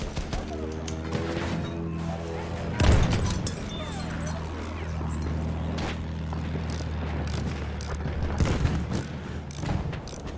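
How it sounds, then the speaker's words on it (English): Mortar explosions in a naval battle video game: heavy booms and crashes land over a constant low engine drone, with a louder blast near the start and more impacts later. "Oh shit, so much mortars."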